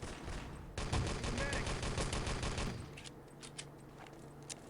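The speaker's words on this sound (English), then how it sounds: "gets 10 bullets in his MP40" An MP40 submachine gun fires a rapid, steady burst for about two seconds in a video game, with a commentator talking over the shooting and over the quieter sounds that follow.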